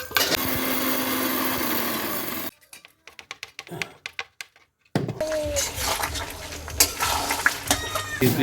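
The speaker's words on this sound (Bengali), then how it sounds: "বিরিয়ানি মশলা মিক্সারে একটুখানি বিরিয়ানি মশলাটা গুঁড়ো করে নেবো" A mixer grinder whirs loudly as it grinds biryani masala into powder, running in two bursts separated by a quieter pause with tapping and handling sounds.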